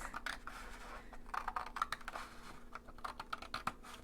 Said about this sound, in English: I'm just going to be taking some scissors and I'm just going to cut the smallest, just a shave